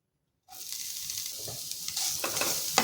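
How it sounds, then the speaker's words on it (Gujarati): Grated carrots and vermicelli sauté in a pan over a medium flame, giving a steady close sizzle with scraping stirs that begins abruptly after a short silence and continues without pause. "ગાજર અને ડમરૂ સેવને આપણે મિક્સ કરી અને બધું સરસ રીતે સાતળી લઈશું"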